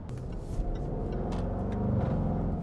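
Jaguar F-Pace SVR performance SUV engine giving a low, continuous rumble, close and steady with a slight rise toward the end.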